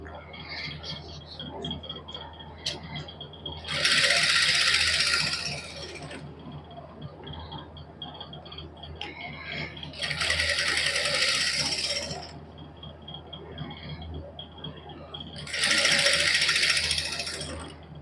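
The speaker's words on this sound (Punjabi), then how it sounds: "ਇਸ ਤਰ੍ਹਾਂ ਨਾਲ ਨਾਲ ਇਹਦੀ ਸਿਲਾਈ ਲਾ ਲਾਂਗੇ" A sewing machine stitches a salwar, running in three separate loud whirring bursts of a couple of seconds each with quieter pauses between.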